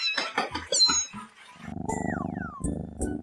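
A cartoon cat in a toddler show gives a drawn-out, warbling meow after a short burst of a child-like voice, fairly close and clear with nothing else underneath.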